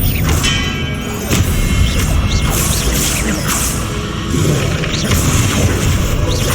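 Expelliarmus spell cast in Hogwarts Legacy, a loud booming impact with swishing magical whooshes and crashing bursts layered over a continuous rumble of combat. Close, powerful and sustained across several seconds.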